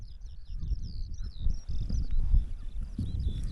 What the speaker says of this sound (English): We've got this bird singing away. It's absolutely beautiful bird song